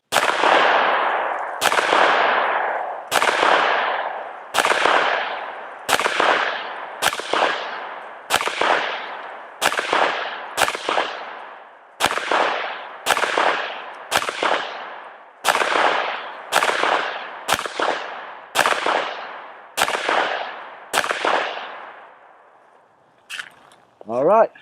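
A Springfield Armory Echelon 4.0C 9mm handgun fires eighteen loud, sharp shots one at a time at a steady, unhurried pace. Each report rings out briefly and decays before the next, then the shooting stops and a faint clatter follows.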